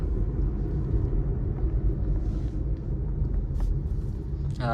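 Steady, loud low rumble from inside a car driving on a road in traffic, the engine and road drone continuous throughout with a faint higher noise late on.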